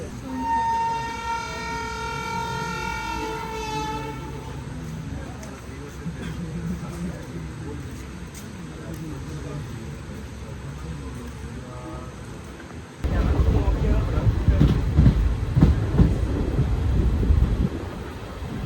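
The Maveli Express passenger train rumbles along the rails with steady low-frequency rolling, and a long horn blast sounds early on; the noise grows louder and rougher toward the end.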